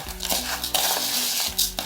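Light scraping and clinking of a utensil stirring dry rice and raisins in a bowl, close and soft, with a few rhythmic strokes.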